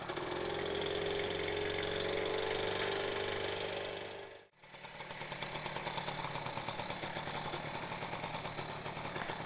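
A small street-legal Japanese vehicle with twist-throttle controls, no clutch and no gear shift runs its engine at a steady, close idle. The engine sound dips sharply midway, then picks up again and keeps going.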